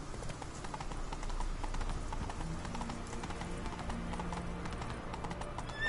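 Roach the horse trots through The Witcher 3 with a steady, close clip-clop of hooves that keeps up an even rhythm from start to finish over the game's background ambience.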